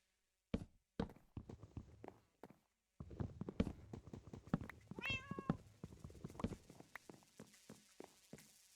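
A single cat meow in Minecraft rises briefly amid a run of quiet clopping footsteps and soft clicks, all fairly faint.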